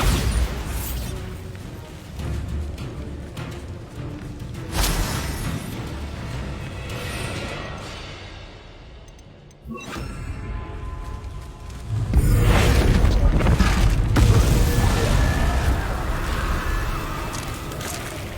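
The Bombarda blasting spell goes off in a Hogwarts Legacy battle as heavy, broadband booms and bursts, with a large blast near the end that rumbles on loudly.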